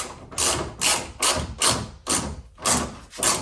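Ratchet wrench tightening the tailgate assist bolts on a Ford Ranger, heard as about eight close, loud bursts of rapid clicking with short pauses between strokes, no talking.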